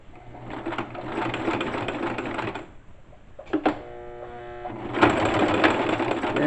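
A sewing machine stitching fabric for ladies' panties runs in steady, close-up whirring runs, pausing briefly in the middle before starting up again.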